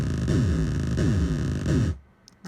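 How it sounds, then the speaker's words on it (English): Rhythm loop sample from an ARP 2600 synthesizer played back: close, buzzy synth pulses sweep downward in a repeating pattern, then cut off abruptly into near silence before a brief new burst starts. "a bunch of rhythm tracks from the ARP 2600"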